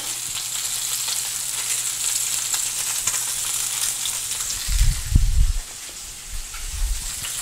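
Steady hissing sizzle of seasoned skin searing in a hot pan, continuous throughout, with a few low thumps and bumps near the end.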